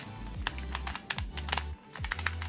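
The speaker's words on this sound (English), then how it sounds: "These are the clicky variations, which I know some people don't like, but I genuinely really, really like the way they sound" Clicky optical switches on a Bloody keyboard being typed on, a quick run of sharp, close key clicks in short bursts, with some low hum underneath.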